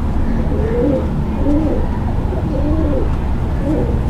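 A pigeon coos in a repeated, soft rolling pattern, several calls close by over a steady low background hum.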